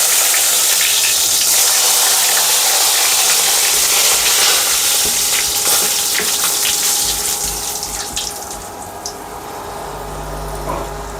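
Garlic, red chillies, cumin, mustard seeds and curry leaves fry in hot oil with a loud, continuous sputtering hiss that softens slightly toward the end.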